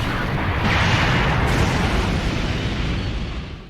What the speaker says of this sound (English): Moonstone cannon, fire!